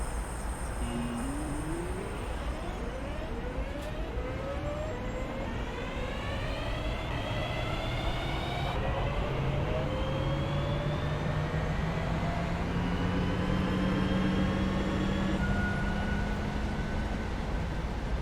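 An electric passenger train on Birmingham's Cross City Line pulls away from a station in a train driving game, its traction motors whining and rising steadily in pitch over a constant rumble, close and alone.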